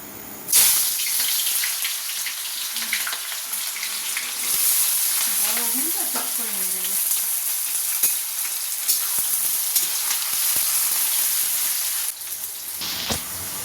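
Onions for birista sizzle steadily in hot oil in a wok, a dense close frying hiss with occasional stirring scrapes throughout.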